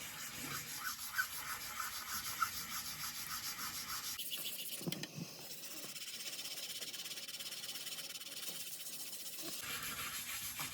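Light, steady rubbing strokes of sandpaper rasp back and forth close up on a scale model car, soft and repetitive, with a short pause midway.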